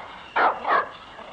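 A dog lets out two quick, close barks, one right after the other, with quiet room tone before and after.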